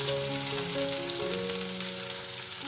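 Cumin, fenugreek and fennel seeds sizzling in hot oil for a tempering, a soft steady hiss with light crackle, fairly quiet and close, no talk.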